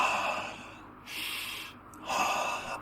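Deep breathing shown as an example of study breathing: two long audible breaths, each slow airy inhale and exhale close to the microphone, separated by brief pauses, with no speech.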